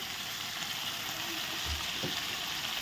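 Turmeric, salt, hot chili powder and Kashmiri chili powder are stirred with fried potatoes in a frying pan, giving a soft, steady sizzle with faint scraping throughout.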